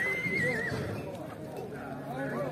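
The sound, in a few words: horse neighing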